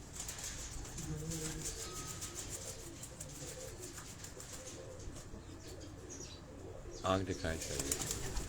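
Ferozpuri cross breeder pigeons coo softly in a loft, with wing flaps and a burst of flapping near the end, while someone speaks briefly.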